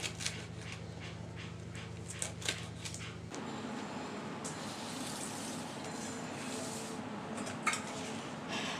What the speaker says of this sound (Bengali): ধনিয়া পাতাগুলোকে আমি কুচি করে করে কেটে নিচ্ছি